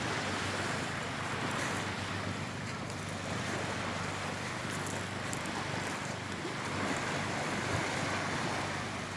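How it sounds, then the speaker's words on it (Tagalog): Sea waves wash continuously at Avila beach. The surf makes a steady, broad rushing sound with some wind buffeting the microphone, and there are no voices. "Lagaslas ng tubig, dagat."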